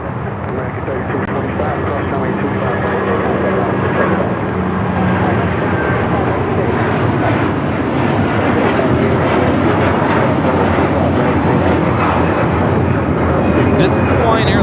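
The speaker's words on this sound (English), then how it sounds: "This is Hawaiian Airlines 803 taking off to Honolulu on the A330-200." A Hawaiian Airlines Airbus A330-200 on its takeoff roll at LAX, bound for Honolulu, gives a steady, loud, broadband jet roar that holds for the whole stretch, with voices talking faintly underneath.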